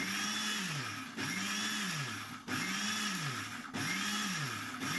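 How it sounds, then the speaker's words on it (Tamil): A mixer grinder whirs as it blends garlic mayonnaise, running loud and steady up close, with a rhythmic swooping drone that repeats about every 1.2 seconds as the contents churn. "நம்ம பூண்டு ஆட் பண்ணியிருக்கிறதால ஒரு 20 செகண்ட் அரைக்கணும்"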